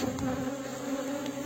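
Honey bees shaken into an Easy Check jar for a Varroa mite count buzz in a dense, continuous hum, close and steady with no talk.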